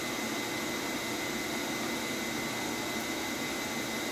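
A Cummins 12-valve diesel with a VE injection pump fitted with PowerJet runs during a pump test, giving a steady, even, broadband drone with no change in pitch or loudness and no talking.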